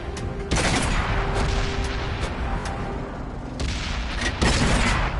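Tank cannons and gunfire in World of Tanks boom in a loud, dense barrage, with repeated sharp blasts standing out over a continuous roar of battle.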